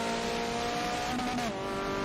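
A Mazda Miata race car engine in a Lemons at Le Mans endurance racing video game, a steady buzzing engine drone with a brief pitch dip around a gear change, continuous and fairly close.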